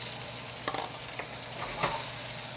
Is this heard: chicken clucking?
no